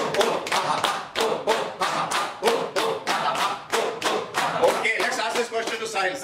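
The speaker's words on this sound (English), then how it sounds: "we'll always start with a clapping" A group clapping hands together in a laughter yoga session, a loud steady rhythm of sharp claps close by, with a voice speaking briefly toward the end.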